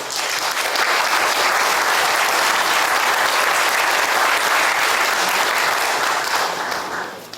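Loud, full applause from the gathering at a national Presbyterian men's fellowship prayer breakfast, welcoming the praise team with sustained dense clapping that holds steady throughout and tapers slightly at the close.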